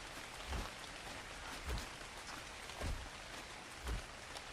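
Falling rain in Minecraft, a soft constant patter with four evenly spaced heavier thumps, low in level and heard alone.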